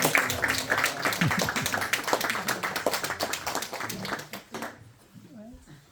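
Audience clapping at a convention cultural program, a dense run of claps mixed with voices for about four and a half seconds before fading to quiet.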